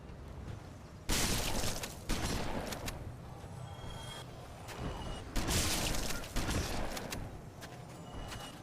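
Gunfire and grenade blasts from a modded Dark Souls Remastered game: loud bursts of shooting and booming explosions recur in clusters, with dense, noisy crackle between them and no talking.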